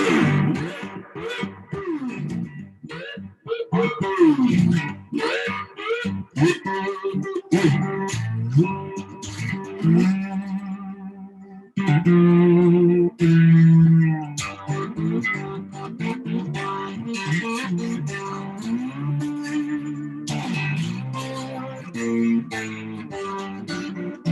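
Electric blues guitar playing with sliding single-note lines, bent notes and plucked phrases, slightly distorted, close and unaccompanied, with short gaps between licks.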